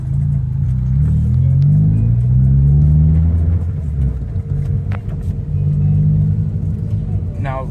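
A Toyota Corolla with an upgraded intake manifold, throttle body and fuel injectors pulls hard under acceleration, its engine droning loud and rising steadily inside the car, with a voice speaking briefly near the end.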